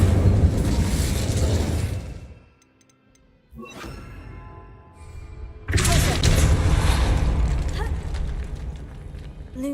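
A fiery Incendio spell blast erupts in Hogwarts Legacy, a loud roaring burst that fades into near silence before crackling magical noise and a second sustained surge of flame-like rumble.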